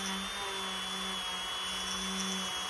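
A powered rotary polishing tool loaded with polishing compound works a skull necklace, giving a steady, close, high-pitched whine with a constant motor hum that holds unbroken throughout.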